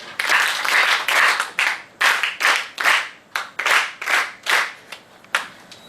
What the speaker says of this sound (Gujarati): આપણે સૌ 3 વખત 3 તાળી પાડીને રવિન્દ્રભાઈને આપણે બિરદાવીશું